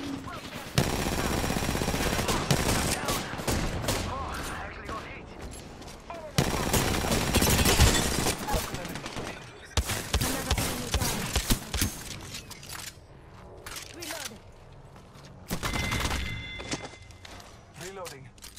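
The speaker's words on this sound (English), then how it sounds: "Listen up, I'm getting shot at." Bursts of automatic gunfire and scattered single shots from an Apex Legends arena match, loud in clusters with quieter gaps, mixed with footsteps and thumps while a voice talks over the action.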